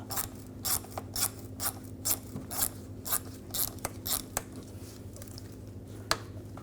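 A ratchet with a 7mm socket loosens a hose clamp on a 2004-2009 Audi A4 Quattro 2.0L during turbocharger replacement, a rhythmic series of crisp close clicks in quick bursts over a low hum.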